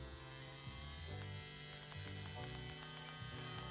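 A CNC P6 machine's customized X1 motor runs with a steady electric hum and whine, shifting pitch in steps and ticking regularly, close by with no talk.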